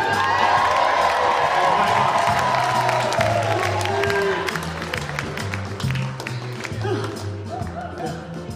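An audience at a hospital comedy revue in Brighton cheers and applauds loudly, with whoops and shouts over steady clapping that thins out toward the end.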